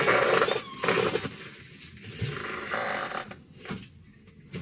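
A pet cat indoors lets out a few short, tonal meows and grumbles, close to the microphone, separated by quieter pauses.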